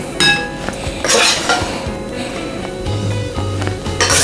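Sweet chili crispy chicken is moved into a bowl, with metal utensils clinking and scraping against dishes in quick, close, bright knocks and rattles, with no one talking.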